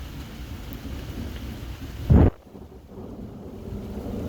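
Thunder from a lightning storm with blue lightning: a sudden loud crack bursts out over steady rain and wind, cuts off abruptly, then the rain hiss settles back in.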